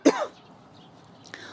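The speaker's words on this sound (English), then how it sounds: "excuse me, I'm gonna cough." A single short human cough, sharp at the start and quickly fading, recorded up close outdoors during a garden stroll, with a faint sound after it.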